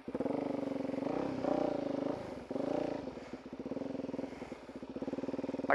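A motorcycle rides through packed mud, its engine droning and revving in surges close by with clattering underneath, no voices heard.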